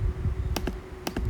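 A newly installed replacement trackpad on a late-model MacBook Pro clicks twice, each a sharp, close tap with a quick double transient, under a faint steady hum.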